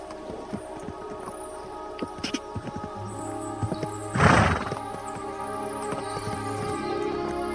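Horse hooves clip-clop in an irregular rhythm, with a loud whinny in the middle, over a faint steady background hum, in the video game Kingdom Come: Deliverance 2.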